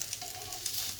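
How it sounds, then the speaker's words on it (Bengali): Rava dosa fries in a hot pan with a steady, close, crackling sizzle that stays even throughout the short moment. "এবার আমরা অপেক্ষা করব গোল্ডেন ফ্রাই হওয়া পর্যন্ত"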